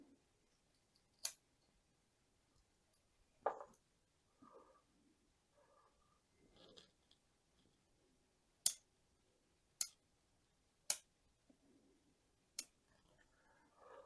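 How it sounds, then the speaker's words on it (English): Pruning shears snip through the stump of a large portulacaria afra bonsai cutting, a series of sharp crisp clicks spaced a second or so apart, close and clear against near silence. "Just cut this stump off here in the middle."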